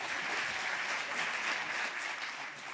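A ceremony audience gives sustained, even applause, a dense crowd of clapping that fades slightly at the end.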